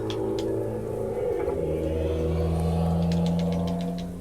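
A car engine passing outside, a steady mid-pitched hum and whir that holds and swells slightly over a few seconds, heard alone with no talking.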